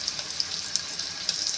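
Onions sizzle and crackle in hot oil for a Telugu-style tempering, a steady close frying hiss with a few brief louder pops scattered through.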